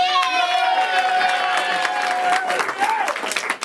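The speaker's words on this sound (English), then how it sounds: "clap for her, everyone" An audience at a live show claps and cheers for a volunteer called up on stage, the clapping brisk and mixed with shouts and excited voices before tapering off near the end.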